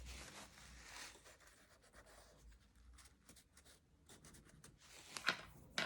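Faint scratchy strokes of a tool scoring fold lines into paper for a handmade mini album, soft intermittent scraping and rubbing close by, quiet with no voices.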